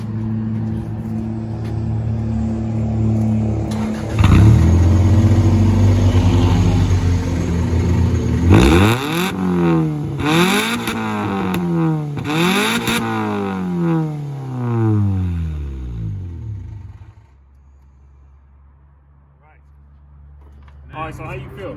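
A 4-cylinder Honda engine in an Acura Integra is revved three times in quick succession, each rise and fall loud and close. Idle and cabin rumble come before and after, and people talk nearby.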